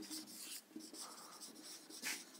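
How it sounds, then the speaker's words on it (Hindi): Handwriting the full form of DRAM: soft, faint pen strokes rubbing over a surface in short bursts, with a few brief scratchy sweeps. "डी रैम का हम लोग फुल फॉर्म लिख लेते हैं"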